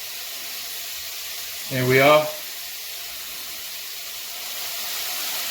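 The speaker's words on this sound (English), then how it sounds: "I'm going to get my duck breasts that are in here, remember, skin side down into my hot oil" Duck breasts laid skin side down into hot oil give a sudden hiss and sizzle lasting about a second over a steady background hush, with a voice speaking briefly.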